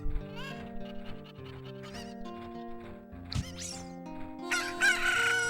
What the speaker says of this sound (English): Now I'm being chased by cuckoos.